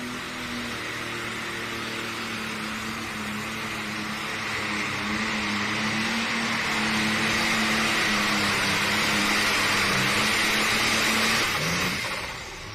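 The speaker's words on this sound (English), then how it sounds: "That tractor kind of darted off there to the left-hand side of the track." Light pro stock tractor engine at a tractor pull during the NC State Fair Southern Showdown, a loud steady roar that climbs in intensity over several seconds before easing off near the end, with no one talking.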